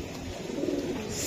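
A Sila pigeon gives a short, low coo close by, rising slightly midway over a quiet hum, with nobody talking.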